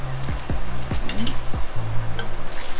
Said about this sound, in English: Saute this a little bit.